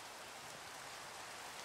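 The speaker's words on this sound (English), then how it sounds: "Oh, it's raining." Rain falls in the Minecraft video game as a faint, steady, even hiss with no pauses or separate drops standing out, heard without any voices.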